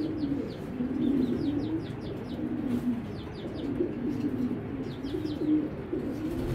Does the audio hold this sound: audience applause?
no